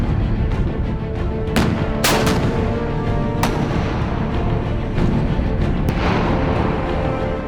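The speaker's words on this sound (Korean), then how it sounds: "전차가 기동간 사격을 하며 1200m 떨어진 표적을 향해 실탄을 나눈다." Live rounds from a tank's main gun fired on the move at a target 1200 m away, with high-explosive anti-tank ammunition on an armored battalion training range. Several loud, sharp blasts ring out over a constant rumble of engine and heavy gunfire.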